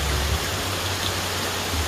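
Steady rain falls in the countryside as a continuous, even hiss with no pauses and no voices.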